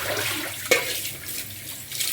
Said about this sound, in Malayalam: ഇനി ഇതിൻ്റെ വെള്ളം പോകാനായിട്ട് ഒന്ന് വാർത്തെടുക്കാം.